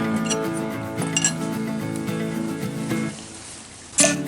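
Soju and beer being poured and mixed into glasses for somaek at an outdoor family meal, with bright glassy clinks and fizzy liquid sounds over a steady background hum, ending in a sharp clink.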